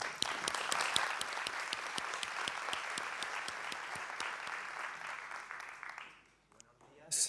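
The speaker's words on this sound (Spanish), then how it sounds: "Un aplauso para Javier." Sustained applause from a conference audience welcoming a speaker to a business panel, dense and steady clapping that fades out near the end before a brief burst.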